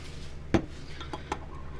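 Colour drops being stirred into a clear bait mix with flake in it, a few light clinks of a utensil against the container, one sharp tap followed by softer ones.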